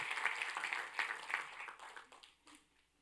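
Applause from a church congregation during a Spanish-language service, a dense wash of clapping that is loudest at the start and fades out over about three seconds.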